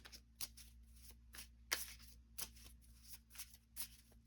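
Tarot cards are shuffled in quiet, crisp riffles and taps, a series of soft flutters repeating at an irregular rhythm, close and low in level over a faint steady hum.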